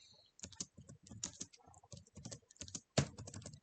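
Rapid bursts of keystrokes rattle on a computer keyboard while commands are entered into a custom shell program, clear and close with short pauses between bursts and one sharper key strike.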